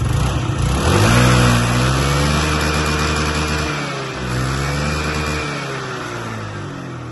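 A fuel-injected Yamaha Jog SA 39 scooter engine runs close by, holding a steady drone with a couple of slight rises and dips in pitch, loud and alone with no talk.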